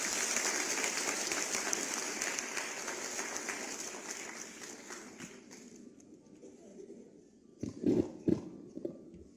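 Applause welcoming the deputy chief minister at a government school enrollment and disease-control campaign event, a moderate crowd clapping that thins and fades out, followed by a few sharp handling knocks near the end.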